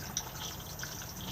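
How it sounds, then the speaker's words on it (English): A Thetford cassette toilet flushes inside a 2021 Benimar Tessoro 482 motorhome, giving a brief, steady rush of water at close range. "And then push to flush just here."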